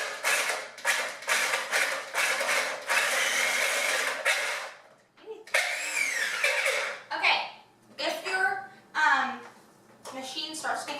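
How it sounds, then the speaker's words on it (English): A blender mixes a popsicle mixture with cinnamon, starting slow; bursts of motor whir come in pulses in the first half, then the machine strains and changes pitch, with someone talking intermittently. "Machine starts getting stressed and starts making funny sounds"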